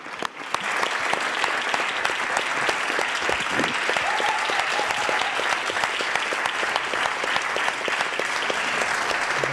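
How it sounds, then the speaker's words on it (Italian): Sustained audience applause fills a hall after a talk on longevity and relationships, dense steady clapping holding at an even level for the whole span with faint voices mixed in. "No, non fate l'applauso, vi ringrazio."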